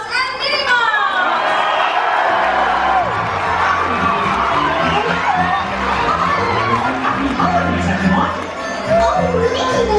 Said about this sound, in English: Let's give a big round of applause for our tree lighting host this evening, Mickey Mouse and Minnie Mouse!